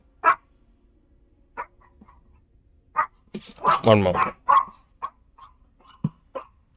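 A puppy giving several short, separated barks and yips, close by, with a voice speaking briefly between them.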